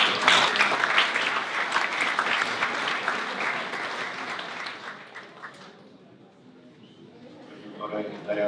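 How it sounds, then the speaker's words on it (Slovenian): Audience applause at an award ceremony for a national institute of biology, dense and sustained clapping that slowly fades out, then rises again at the end. "pa bomo tudi močno zaploskali"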